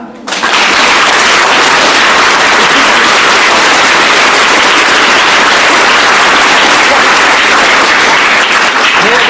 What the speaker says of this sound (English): Now with this feeling, clap.